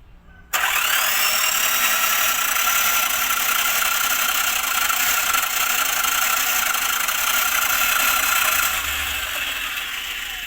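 A small engine with a single-cylinder head and piston starts abruptly, then keeps up a steady, loud mechanical drone with a ratcheting rattle while it runs to test its oil pump. No one speaks over it.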